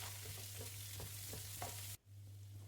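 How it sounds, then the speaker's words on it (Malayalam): Mustard seeds, curry leaves, onion and green chili fry in coconut oil in a pan, a steady close sizzle with soft scraping stirs every few tenths of a second, then the sizzle drops abruptly before resuming more quietly. "ആദ്യം ഒരു പാൻ അടുപ്പത്ത് വെച്ച് അതിലേക്ക് വെളിച്ചെണ്ണ ഒഴിച്ച് കുറച്ച് കടുക് ഇട്ട് കൊടുക്കാം"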